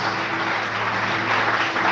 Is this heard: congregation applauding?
yes